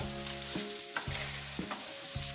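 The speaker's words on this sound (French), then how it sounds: "imbiber tout le riz dans l'huile." Rice frying and sizzling in oil in a pan for a saffron paella-style dish, a steady close crackle broken by a few stirring scrapes with no voices.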